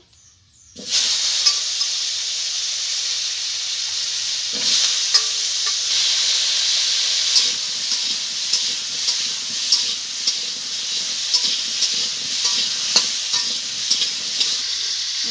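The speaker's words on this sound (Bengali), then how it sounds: "এবার আমি আলুটাকেও ভেজে নেব।" Potatoes dropped into hot oil in a pan, erupting into a loud, steady close-up sizzle with crackly spits that carries on without talk.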